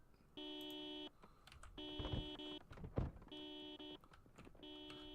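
Inside a Project Zomboid game, a car alarm repeats loud electronic beeping tones in regular bursts, with soft thuds and shuffling noises mixed in between the beeps.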